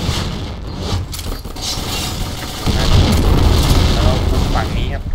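A grenade blast in a shooting video game, a heavy boom with rumbling debris that swells midway and holds loud and close, mixed with game noise and a voice shouting over it.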